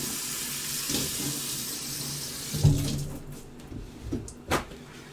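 Hands are washed under a running kitchen tap: a steady stream of water for about two and a half seconds, then the flow stops and a few close knocks and clunks follow, with no talking.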